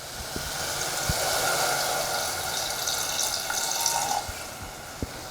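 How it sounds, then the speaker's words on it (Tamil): Water poured into mutton cooking in a pot, a steady gushing rush lasting several seconds with a few light clinks, close and fairly loud, without talking. "கொஞ்சமாக தண்ணி சேர்த்துற போகிறோம்"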